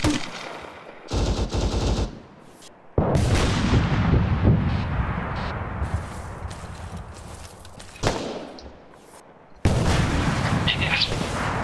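Sustained automatic gunfire and heavy booming shots in ARMA 3, loud and continuous bursts with brief pauses and echoing tails, rolling across the battlefield without talk.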